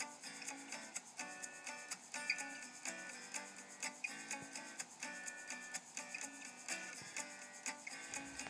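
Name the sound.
hacksaw cutting a steel hex rod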